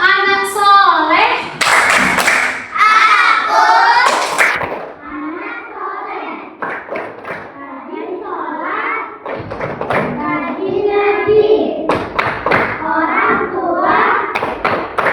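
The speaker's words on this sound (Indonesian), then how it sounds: "selanjutnya tepuk anak soleh" A class of Indonesian schoolchildren performing the anak soleh clap chant, loud unison voices alternating with sharp rhythmic bursts of clapping and thumps, repeated several times throughout.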